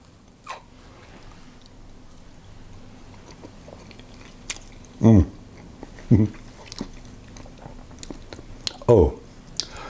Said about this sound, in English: I'm going to have a little taste of this.